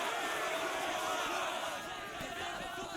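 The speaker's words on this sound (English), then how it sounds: "if everybody could give these guys a chant and a cheer" A large crowd chants and cheers during a video game ceremony, a dense, continuous roar of many voices that holds steady and fills the whole moment.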